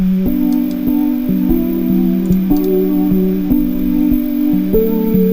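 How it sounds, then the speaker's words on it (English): Synth main melody pattern of sustained tonal notes stepping between pitches in a steady, repeating rhythm with soft percussive ticks, loud and alone. "so we start with this first pattern for the main melody"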